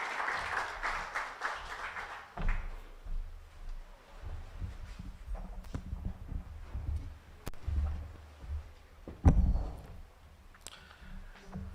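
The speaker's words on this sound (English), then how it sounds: "A round of applause as he comes to the" Audience applause at a media awards ceremony in Dar es Salaam, Tanzania, a burst of clapping at the start that fades after a few seconds, followed by low room rumble, scattered clicks and thumps.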